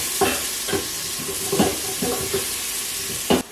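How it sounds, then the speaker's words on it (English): Onions frying in an Instant Pot, a steady sizzle with several short scraping stirs spaced through the clip, close and moderately loud with no talking. "I've cooked the onions for about 2 to 4 minutes."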